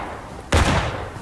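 A musket volley fired in line in the Civil War game War of Rights: one sudden loud boom that rolls off into a rumbling decay over faint background noise.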